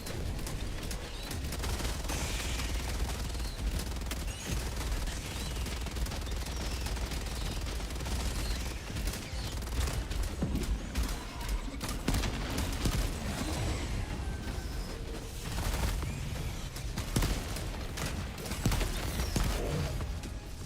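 Near-constant video game gunfire, a dense barrage of rapid shots crackling with only brief gaps and no clear talk.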